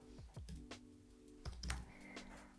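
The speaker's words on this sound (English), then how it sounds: "start typing your prompt" Faint typing on a computer keyboard: scattered clicky keystrokes in an uneven rhythm, heard close and quiet over low background hum.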